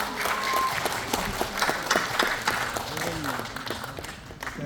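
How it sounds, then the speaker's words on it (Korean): Moderate applause from an audience in an arts hall closing a national chapter launch ceremony, uneven clapping with distinct individual claps and voices talking over it. "이것으로 모든 행사를 여러분들의 큰 박수로 마치도록 하겠습니다"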